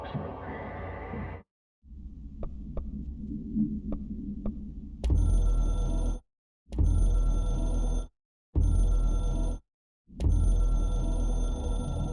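A hotline telephone in the supernatural action game Control rings in long, loud, buzzing pulses separated by silent gaps, after a low hum with a few faint ticks.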